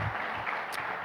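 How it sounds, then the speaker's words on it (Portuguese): A church congregation applauds during a Sunday Lord's Supper service at an OBPC church in Avaré, Brazil, a brief, steady wash of clapping with no voices over it. "Vamos aplaudir."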